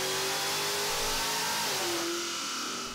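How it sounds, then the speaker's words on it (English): A Ferrari on a rolling road dynamometer revs loudly and continuously, its engine note climbing then settling as it accelerates under load, close and alone with no voices. "its engine is revved up and accelerated"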